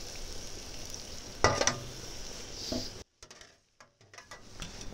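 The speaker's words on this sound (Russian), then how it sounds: "Перемешиваем." Potatoes and sausages frying in a kazan over a campfire, stirred; a steady sizzle with a few louder scraping stirs, then the sound drops out into near silence with scattered faint clicks.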